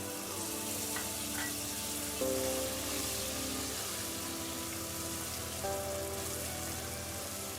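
Butter melts into hot caramel in a pan for chocolate crispy energy bars, producing a steady, rain-like crackling sizzle with faint tonal hum in the background, no voices.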